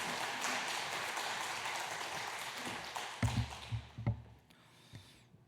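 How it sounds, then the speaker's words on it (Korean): Congregation at a Wednesday church prayer service clapping to welcome a preacher, a dense steady patter of many hands that thins into a few louder scattered claps before fading out. "우리 박수로 환영하시면 좋겠습니다."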